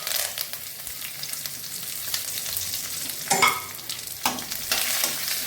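Spices sizzling in two teaspoons of hot white oil in a kadai over a low flame, a close continuous frying hiss broken by a couple of sharper crackling bursts and stirring sounds.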